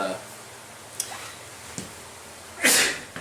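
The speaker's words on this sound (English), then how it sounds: "just sneeze right in front of the fan" A single loud sneeze bursts out near the end, after a few faint clicks and soft rustles in a quiet room.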